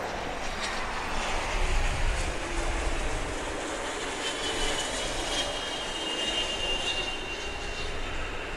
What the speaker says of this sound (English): There's that Challenger arriving from New Jersey.